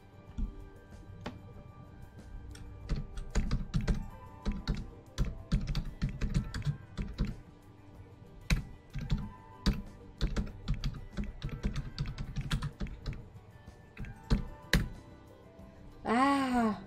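Keyboard typing in The Sims 4: quick, irregular bursts of close, crisp key clicks and clacks run almost continuously, broken by short pauses, with a brief game chime at the very end.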